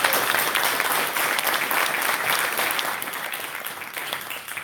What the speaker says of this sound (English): I'd actually like a big round of applause for all the guys who got us there.